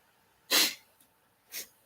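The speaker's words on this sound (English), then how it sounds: "Sorry, I have to sneeze." A single person sneezes once, loud and close, followed by a softer second burst about a second later in an otherwise quiet room.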